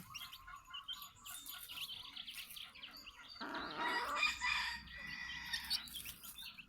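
Chickens cluck and call in short bursts, with a rooster crowing partway through and small birds chirping faintly around them.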